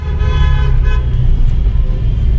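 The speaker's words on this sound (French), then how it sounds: "on klaxonne gentiment quand il y a des gens qui nous font coucou" A car horn honks steadily and loudly over a running car engine, sounding from inside a vehicle driving in a car rally and wedding procession.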